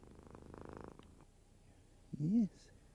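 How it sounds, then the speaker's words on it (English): A domestic cat purrs in a short, low, rumbling burst, followed by a brief rising and falling vocal call, heard close over a quiet background. "mum purrs and they purr, and it's reassuring"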